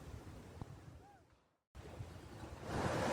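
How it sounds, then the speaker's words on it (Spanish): Wind and ocean surf make a dull, steady rush that fades, stops completely for a moment, then returns and grows louder toward the end. "El viento aullaba, y las olas parecían gritar sus inseguridades."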